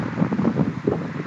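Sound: strong wind during a wildfire

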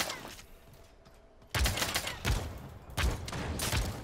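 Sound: shotgun firing in the video game Realm Royale

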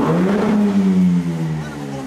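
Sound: Jaguar F-Type engine with modified exhaust, sports car sound

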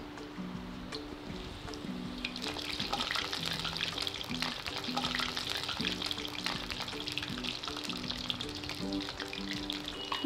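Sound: vada frying in oil

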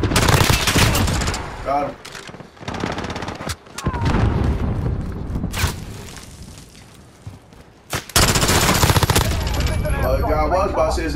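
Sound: grenade explosion and gunfire in video game Call of Duty Modern Warfare

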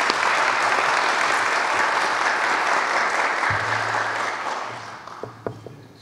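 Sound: audience applause for Miraç

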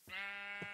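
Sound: sheep bleating in a Sky Den modpack video game

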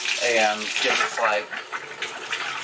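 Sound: hot water filling a 5 gallon bucket

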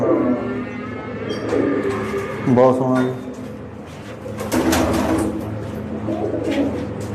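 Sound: pigeons cooing

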